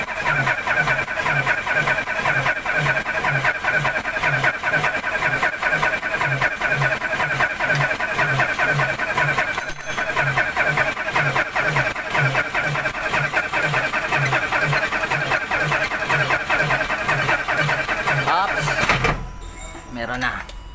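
Isuzu 10PE1 diesel engine cranking after a general overhaul, a loud, rapid and rhythmic starter churn held for nearly twenty seconds before cutting out, with speech over it.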